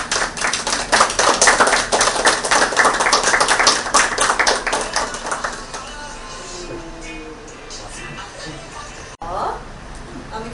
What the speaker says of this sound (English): We celebrating, give us a clap.